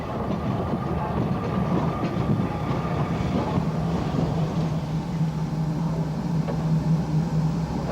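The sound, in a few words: train drawn back into Robertsbridge station by E1 locomotive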